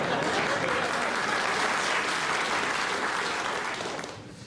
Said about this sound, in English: All that clapping.